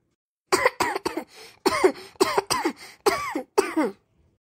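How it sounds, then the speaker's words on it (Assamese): A run of about eight close, loud coughs in quick succession from a cartoon boy, followed by silence. "অ' মোৰ ল'ৰাটো কাহো হৈছে"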